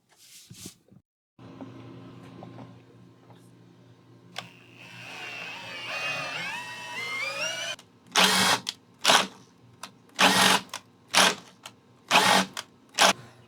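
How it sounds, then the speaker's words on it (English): A power drill on a sailboat whines and grinds through material for several seconds, its pitch wavering under load, followed by a series of short, loud bursts. "This drill is not strong enough to go through that in one shot"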